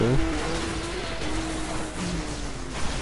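A car accelerating in the racing video game Need for Speed Most Wanted 2012, a steady engine drone with rising tonal whine under broad noise, loud and continuous throughout.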